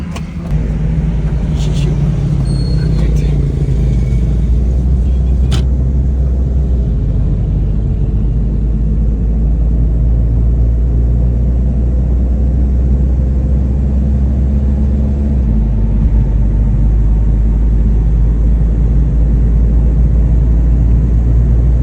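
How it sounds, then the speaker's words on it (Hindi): A tuned Maruti Alto VXR 660cc car engine runs steadily at a loud, close idle-like rumble for the whole stretch after silencer work, with the low drone shifting slightly partway through. "सिलेंसर का काम तो हो गया, को गाड़ी की ट्राई देते हैं।"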